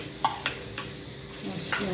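A spoon scrapes and stirs through a thick sukhdi mixture with cream in a pan over low heat, a few soft knocks against the metal over a low sizzle.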